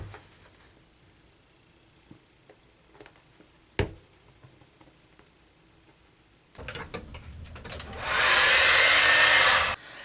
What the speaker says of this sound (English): you just need a hairdryer and some baby powder